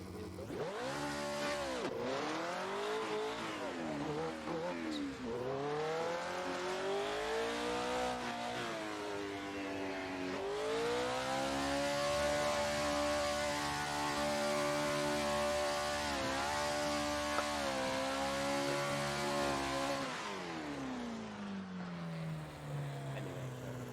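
Mega Truck mod in the racing game Assetto Corsa, its engine droning and revving steadily with rising and falling pitch sweeps, loud and continuous for the whole stretch with no talking.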